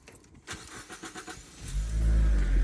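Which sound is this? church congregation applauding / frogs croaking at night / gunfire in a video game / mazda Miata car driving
mazda Miata car driving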